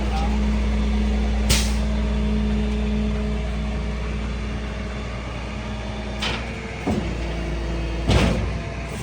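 A truck idles with a deep engine drone while unloading a Nissan G35 car, as sharp air-brake hisses burst out several times over the steady rumble.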